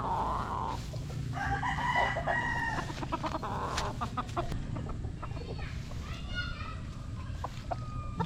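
Roosters crowing repeatedly at a Filipino gamefowl farm, several long cock-a-doodle-doo calls with clucking hens, loud and near, under someone talking throughout.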